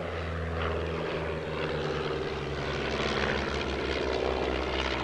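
Vintage Pair warbirds performing at an airshow, their propeller engines droning steadily and loudly with layered tonal hum, the pitch shifting slightly as the aircraft maneuver overhead.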